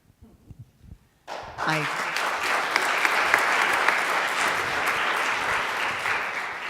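Audience applause at a women's sports governance summit, bursting in abruptly after a brief quiet stretch and holding as a steady, dense wash of clapping until the end.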